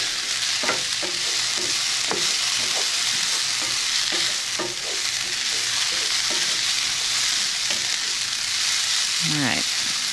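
Vegetables for shakshuka fry and brown in a pan under a constant sizzle, with scattered scraping and stirring clicks from a utensil and a brief voice near the end.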